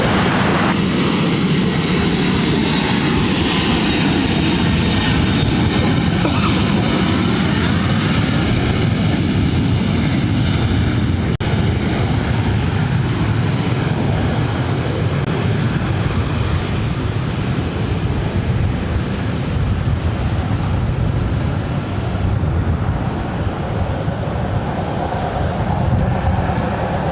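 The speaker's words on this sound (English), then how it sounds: "This is WestJet Flight 1511 taking off to Calgary on the 737-800." A WestJet Boeing 737-800 takes off from LAX for Calgary, a powerful sustained jet roar that stays loud and steady throughout, with broadband engine rush and a shifting whine.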